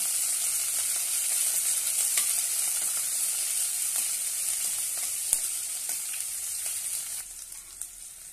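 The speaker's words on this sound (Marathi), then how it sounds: "बारीक लसूण कट केलेली आहे ते घालूया आणि एक कांदा बारीक असा कट करून घेतलेला आहे तो घालूया। छानपैकी परतून घेऊया।" Finely chopped garlic and a finely chopped onion sauté in a pan for a bhendi-methi dish, giving a steady, loud, close sizzle broken by occasional scrape and stir clicks, with no voices.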